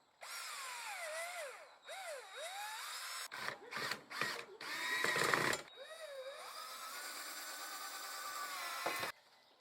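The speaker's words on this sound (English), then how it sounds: "I'm gonna pre-drill the holes just a bit to help me out" A power drill whirs in several bursts, pre-drilling holes to fit a rear diffuser on an EcoBoost Mustang, its pitch rising and falling as it bites into material, with brief pauses between runs, close and loud.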